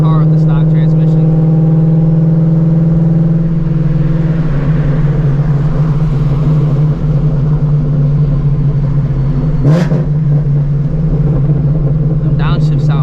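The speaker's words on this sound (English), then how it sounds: "Them downshifts sound way better though." Car with a stock transmission, engine droning loud and close through a steady pull, its pitch shifting with rev-matched blips during downshifts, with a brief sharp burst near the end.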